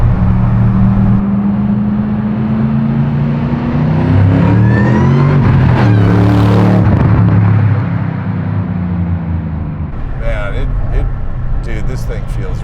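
A 700hp supercharged Shelby GT500 Mustang with a classic 1967-style body, its engine droning loudly and rising through revs while voices talk over it.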